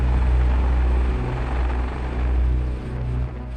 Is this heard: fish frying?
no